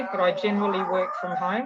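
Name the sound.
dog howling in the background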